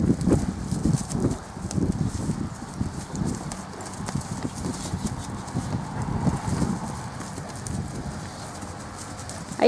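A working Criollo horse on a ranch moves cattle, its hooves clip-clopping in a steady uneven rhythm at close range, with faint birds in the background.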